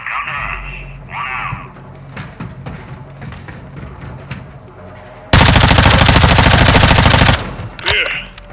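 Heavy automatic gunfire in Call of Duty Modern Warfare II comes as a sustained loud close burst lasting a couple of seconds, after a quieter stretch of scattered game sounds and voices.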